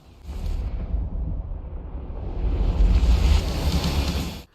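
Stormy-season ocean waves crash and wind roars in Forza Horizon 5, a loud continuous wash of surf and gusts that swells louder toward the end, with no voices.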